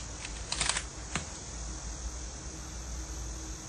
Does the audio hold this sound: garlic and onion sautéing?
no